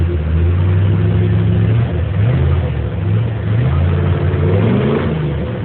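A rebuilt 5.7-litre small block 350 V8 in a 1971 GMC Sierra 2500HD, fitted with a Holley 700 carburetor, Edelbrock intake, shorty headers and custom exhaust, rumbles loud and close, rising and falling through several throttle blips.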